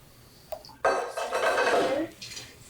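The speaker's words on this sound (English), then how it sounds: "Now we're going to bring the pan back over to the sink." A cooking pan, just emptied of boiled potatoes into a colander, carried back to the sink: a sharp clank, then a ringing metallic rattle and water splash lasting about a second, close by.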